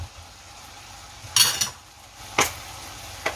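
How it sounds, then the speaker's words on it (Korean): A utensil stirs braised squid and shishito peppers in a pan, giving a couple of sharp metallic scrapes and clinks over a soft low background hiss. "한 번씩 뚜껑을 열고 이렇게 서로 뒤적뒤적 섞어주세요"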